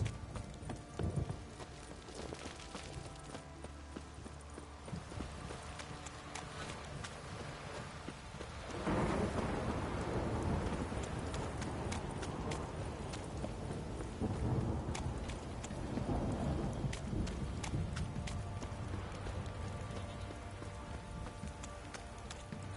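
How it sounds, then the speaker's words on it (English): Heavy rain pours down in a steady, dense hiss with occasional thunder-like rumbles and knocking sounds, the roar of the downpour swelling louder midway. "This downpour's a bastard"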